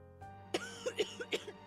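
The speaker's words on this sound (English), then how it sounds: "starts coughing heavily, her hand hastily going to her mouth to stifle the sounds" A short burst of harsh coughing from a woman, several rapid hacking coughs in a row, fairly close and moderately loud.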